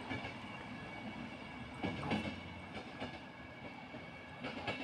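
A train departs from Sandanski station, its steady low rumble carried at a distance, with a few soft clanks and wheel knocks rising through the quiet hum.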